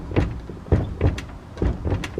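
A GM car door swung back and forth on worn hinge pins and bushings, giving several dull knocking thumps and clunks about every half second, close up and moderately loud.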